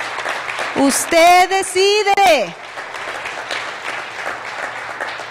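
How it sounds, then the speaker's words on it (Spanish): A church congregation applauds for the Lord at a Sunday service, with a loud voice speaking emphatically at first before the clapping carries on beneath and after it. "dé un aplauso al Señor."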